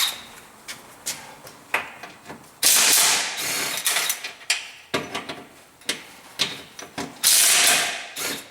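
A ratchet with a 19 mm socket loosens a bolt on a Hyundai during clutch work, giving bursts of rapid clicking with short pauses between strokes, close and loud.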